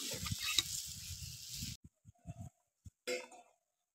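A vegetable curry with cauliflower, potato and tomato boils in a pot, giving a close hissing bubble for under two seconds that cuts off into near silence with a few faint pops and one brief burst.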